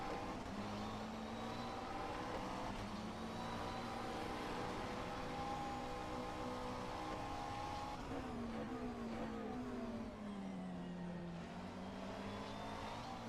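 GT3 race cars, including an older McLaren 650S, race in an endurance event at Portimao in a sim racing game, their engines droning and shifting pitch continuously, with a rising and falling engine note in the second half.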